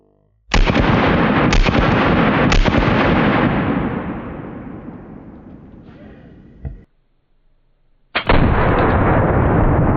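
Double-barrel 1911 pistol firing .90 ACP rounds: three loud close shots about a second apart with long ringing decay, a short metallic clatter, a brief silence, then a fourth heavy blast.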